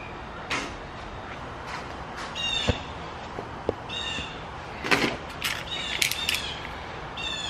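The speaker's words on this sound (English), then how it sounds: "So sorry about the bird in the background" A bird squawks and caws in scattered bursts outside a suburban Chicago garage, fairly distant, with a few sharp knocks and clicks between calls in a quiet setting.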